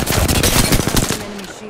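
Loud, dense automatic gunfire in the video game Apex Legends: a continuous stream of rapid, punchy shots at close range that fades out in the last moment.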